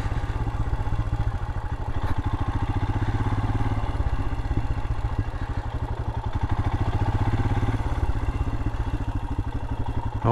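A Royal Enfield Himalayan motorcycle's single-cylinder engine thumps steadily and loudly on an off-road single track through an obstacle course, with rattling and clatter from the bike over rough ground and no speech.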